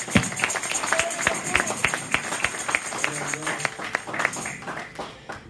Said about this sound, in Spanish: Dele palmas fuertes al Señor esta noche.